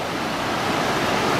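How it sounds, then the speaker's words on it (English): A small waterfall fed by snow melt on Mount San Jacinto gives a steady broadband rush of falling water, continuous and fairly loud throughout the brief stretch, with no talking. "Little waterfall there too."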